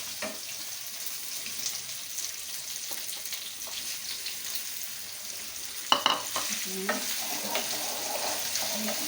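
Potatoes dropped into a frying pan for farali dosa, a soft continuous sizzle with occasional stirring scrapes and a sharper clatter partway through, no speech.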